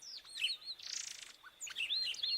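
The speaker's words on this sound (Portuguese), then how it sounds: "Você sabia que o pássaro Inhapim, conhecido cientificamente como Icterus cayanensis, é uma verdadeira joia da nossa fauna?" An Inhapim (Icterus cayanensis), a Brazilian oriole, sings a close, clear phrase of sharp whistled chirps and slurred notes, broken by a short buzzy rasp in the middle.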